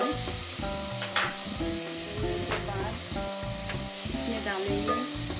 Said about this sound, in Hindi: ये रहा टमाटर। इसे थोड़ा भूनना है।